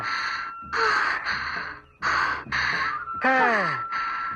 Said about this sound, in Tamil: ஏடி மூச்சு வாங்க ஓடி வர?